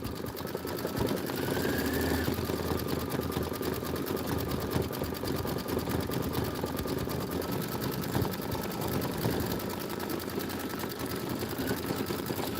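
A computerized embroidery machine stitching a winter-themed design, a dense, rapid, continuous mechanical hum and clatter of needle strokes running steadily and close throughout.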